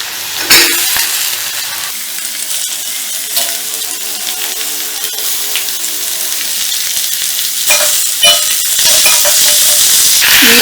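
Green tomatoes and onions fry in a pan, a loud steady sizzle and hiss with occasional stirring scrapes and small spikes of spattering, no talking.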